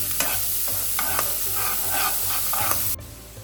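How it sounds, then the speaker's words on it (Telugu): Carrot fry sizzles in a hot pan while a ladle stirs it in regular scraping strokes, a close steady frying hiss that cuts off abruptly near the end, with no speech. "క్యారెట్ ఫ్రై అవుతుంది"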